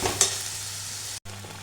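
Pointed gourd peel paste is stirred in hot oil, giving a steady close sizzle with a sharp scrape of the spoon near the start and a brief cut to silence partway through.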